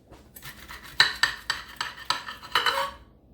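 A knife and fork saw into a waffle breakfast sandwich filled with meat, cheese and egg. The metal scrapes and clinks against the plate in a series of about eight rhythmic strokes, close and clear.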